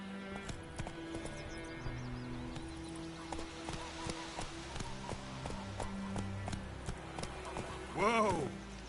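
Hooves of Roach, the horse in The Witcher 3: Wild Hunt on PS5, clop in a quick repeated rhythm with music and a voice over them, ending in a sharp whinny close by.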